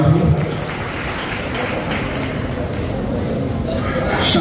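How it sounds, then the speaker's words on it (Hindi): A crowd claps steadily to welcome a guest onto the stage at a student honors ceremony in Bhusawal, India. The even, broad clapping holds for several seconds, with a voice speaking briefly at the start. "जोरदार तालियों में आबिद भाई का यहाँ इस्तकबाल हो।"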